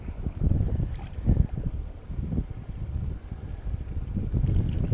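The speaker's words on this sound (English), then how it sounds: "It is clear water, it is wet and windy." Gusty wind buffets the microphone in low rumbling bursts while trout fly fishing on a wet, windy day, with a faint steady background hiss.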